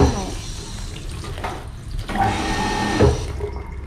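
Tap water runs over banana leaves being washed by hand for a Shan-style banana rice dish, a close, steady splashing flow with shifts in intensity as the leaves are moved under the stream.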